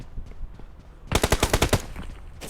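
Automatic gunfire from PUBG Mobile: a rapid burst of about eight loud, evenly spaced shots cracks out midway through, following a quieter stretch of low background game noise.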